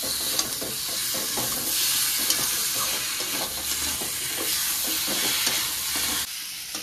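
Ginger paste and spices being sautéed with potato and pointed gourd in a pan, a steady close sizzle with repeated scraping stir strokes throughout, cutting out briefly near the end.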